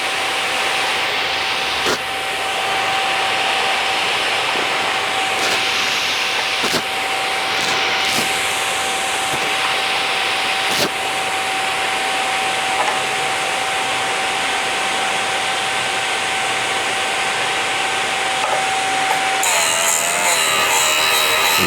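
A new drill bit sharpener grinds a drill bit with a steady, continuous whine, broken by a few short clicks and knocks as the bit is handled, and a shifting, scratchier grind near the end.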